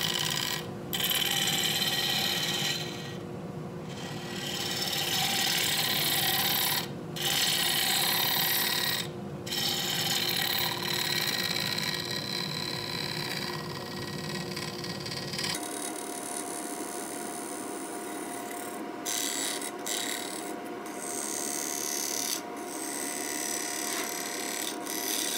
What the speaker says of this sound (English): This tool is the Easy Wood Tools number one hollower. Negative rate carbide tip. Really works great on the resin.